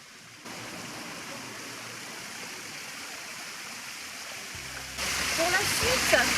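Water splashes steadily from a fountain in a town market square in Pont-l'Évêque, a constant close wash of running and falling water that grows louder and brighter toward the end.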